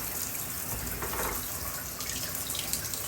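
A tap runs steadily into a sink or tub to fill a soak for a two-year-old sulcata tortoise, making a soft, constant rushing splash close by with no talk.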